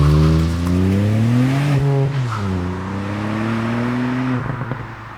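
A Ford Fiesta ST MK8 launches hard under launch control, its engine revving loud and climbing through the gears with shift dips between rising pulls, close and alone.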